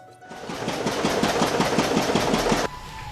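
A small engine at a rice mill runs in a short loud burst of rapid, even chugging pulses with a rattling mechanical buzz, lasting about two seconds before cutting back to a quieter background hum.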